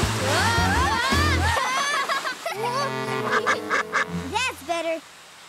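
Cartoon ducklings quack in quick, high, chirpy bursts beside a pond, close and fairly loud, with animated voices and music-like tones running throughout.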